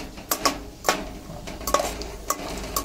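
Semolina frying for sheera is stirred in a pan, with a spoon scraping and knocking against the metal in irregular close clicks and taps over a faint background sizzle.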